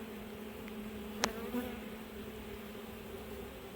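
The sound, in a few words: bees buzzing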